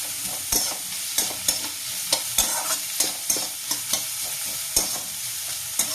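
Onion frying lightly in a pan sizzles under repeated sharp scrapes and knocks of a spatula, arriving at a brisk, uneven rhythm throughout, close and fairly loud.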